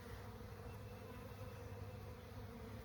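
Honey bees humming around an open hive during a spring inspection, a continuous low, dense buzz that stays steady and fairly faint throughout.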